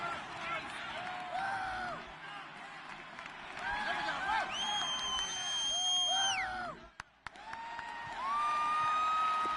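A home stadium crowd at a video game American football match roars and cheers continuously, swelling and fading, with whistle-like tones and announcer talk mixed in throughout.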